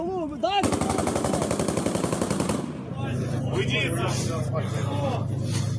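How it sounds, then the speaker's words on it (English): Machine gun fire during street fighting in Ukraine: a loud, rapid sustained burst lasting about two seconds, then a lower rumbling background with voices. "Ukrainians firing back with rocket-propelled grenades and machine guns."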